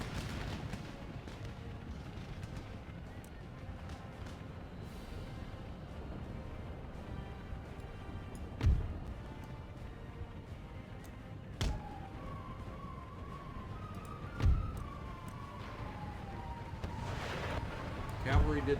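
Camel gunners fire in an Empire Total War battle, with scattered distant booming shots, a few louder thumps every several seconds over a constant low battle rumble, while someone talks throughout.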